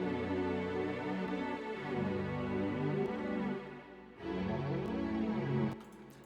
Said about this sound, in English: So I threw in strings and they sound like this.